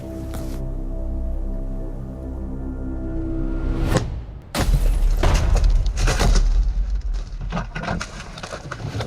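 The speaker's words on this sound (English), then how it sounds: "The man strikes, smashing the window" A thief smashes a car or building window, a sudden sharp crash of breaking glass after a steady engine-like rumble, followed by loud rustling, knocking and scraping close by.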